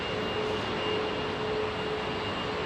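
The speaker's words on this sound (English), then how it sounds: "She's already taxiing. A380, ladies and gentlemen." An Airbus A380 taxiing at Heathrow gives off a steady, loud jet engine roar with a faint whine running through it.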